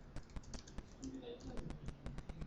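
Computer keyboard keys tapped in a quick, uneven run while a file name is typed, with close, crisp clicks under a speaking voice.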